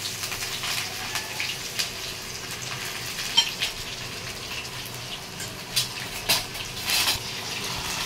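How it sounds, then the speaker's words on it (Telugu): Tempering spices for an eggplant dal drop into hot oil and sizzle softly and steadily, with small pops and spatters now and then over a low continuous frying hiss. "ఆయిల్ వేడెక్కిన తర్వాత ఈ పోపు దినుసులన్నీ ఒకేసారి వేసేస్తున్నానేమో."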